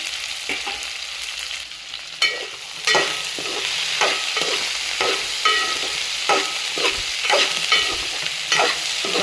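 Okra with turmeric stir-fried in a pan, a steady close sizzle punctuated by regular scraping strokes of a spatula as the pieces are tossed, fairly loud and with no voices.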